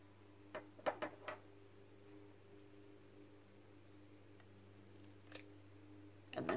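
Scissors snip through fabric at a desk, a few quick crisp cuts close by early on and another cut later, over a quiet steady electrical hum.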